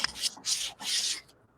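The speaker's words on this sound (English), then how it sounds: "I'm going to take this 400 grit sandpaper and I'm going to sand it like this" 400 grit sandpaper rubbed by hand over painted fabric between coats, three long rasping strokes with short pauses, close and clear with no voices.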